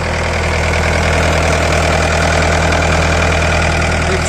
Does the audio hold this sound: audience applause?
no